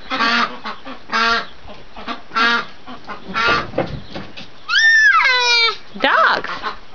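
Ducks leave their pen in a string of loud, nasal honking quacks coming in short bursts, with a longer, wavering call near the end, heard close by.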